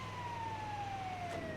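Siren wailing on approach at a roadside motorcycle stop, a steady drawn-out tone slowly falling in pitch, moderately distant and faint over low traffic rumble.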